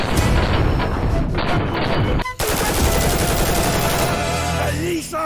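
L85A1 rifle fire at an indoor shooting gallery, loud dense cracks and booming reports in rapid succession, broken by a brief gap before more shots.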